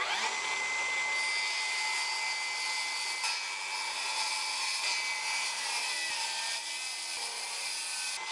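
A circular saw scores rough-sawn cedar half an inch deep for a rustic bench, a continuous high, whining cut that runs the whole time at fairly close range with a few small dips in pitch.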